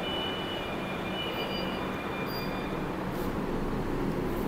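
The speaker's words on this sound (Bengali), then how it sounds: "এটা হচ্ছে ICF-এর মেধা রেক, মেধা মেট্রো রেক, 8 কোচের বডগেজের রেক এটা" A Kolkata Purple Line metro train, an ICF Medha eight-coach broad-gauge rake, rumbles steadily from inside, a close continuous rolling drone of wheels on track with faint high squeals.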